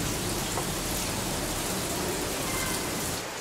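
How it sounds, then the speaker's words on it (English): Heavy rain pours outside a balcony as a dense, loud and continuous hiss of drops, steady throughout with no talk. "it starts pouring rain"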